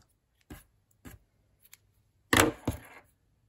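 Scissors snipping crochet yarn: two light, separate snips, then a louder, closer double cut, all crisp and short against near silence, with no voices.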